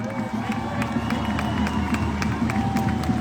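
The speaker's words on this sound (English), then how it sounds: "applause, everyone." Rally crowd at a Free Palestine gathering in Melbourne cheering and clapping, a dense, continuous roar of voices and scattered claps, with a low hum and pulsing rhythm underneath throughout.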